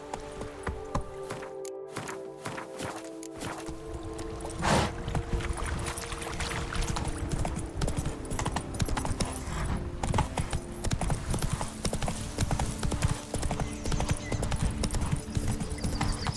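Rhythmic hoofbeats of Roach, a horse in The Witcher 3 video game, galloping steadily and close at hand, with a busy game soundscape of ambient effects underneath and no talking.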